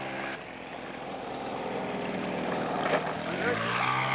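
A white Piper Cub scale model airplane flies overhead at a scale aircraft show, its small engine droning steadily throughout while an announcer talks over it.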